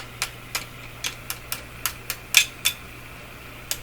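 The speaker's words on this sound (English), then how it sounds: "That musical sound you're hearing is coming out of the speaker." A microphonic vacuum tube in a Breadner Bradna JBL-37 tube radio rings through its speaker after light taps, giving a string of about a dozen short, sharp ticking pings at irregular spacing over a faint steady hum.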